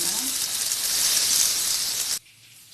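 Yam slices frying in hot oil give off a steady, loud hiss and sizzle that cuts off abruptly near the end, leaving quiet.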